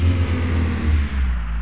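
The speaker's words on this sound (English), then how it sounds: "Handbrake off, and let's start the engine." In the City Car Driving video game, a car engine turns over and settles into a steady low hum and whir, loud and close with no talk over it.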